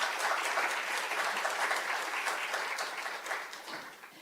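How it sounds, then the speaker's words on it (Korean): An audience at a mission strategy conference applauds to welcome a missionary speaker, steady crowd clapping that stays full for most of the clip and then thins and tapers off toward the end. "박수로 맞이해 주시기 바랍니다."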